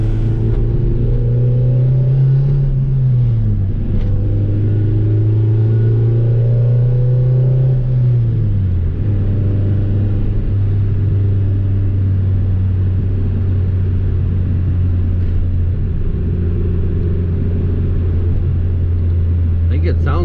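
An Acura Integra GSR with a B18C1 engine drives in second gear at around 30 mph, its engine droning steadily as the pitch rises and drops through two shifts, loud and close with a deep rumble.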